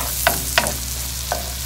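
Onion sizzles steadily in butter in a pan, a continuous frying hiss with three sharp stirring scrapes standing out near the start and end, close and alone with no talking.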